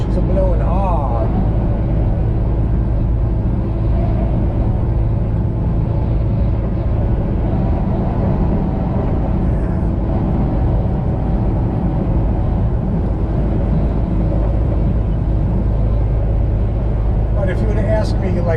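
Strong wind buffets a vehicle, the Black Mamba, travelling I-35 north from Oklahoma to Kansas, a loud, steady roaring rush with road rumble filling the whole stretch, someone talking over it.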